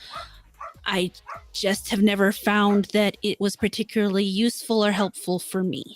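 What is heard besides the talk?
dog barking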